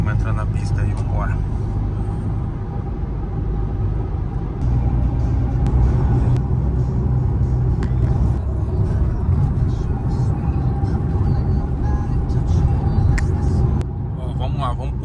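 A Volkswagen Jetta drives on the highway, heard from inside the cabin as a loud, constant low road and engine rumble, with someone talking over it.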